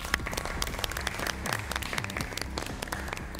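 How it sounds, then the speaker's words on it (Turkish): Audience applause rings through a MasterChef Türkiye cooking show studio, a quiet, steady patter of many hands clapping throughout. "Faruk Batuhan'ı alkışla yerine alalım"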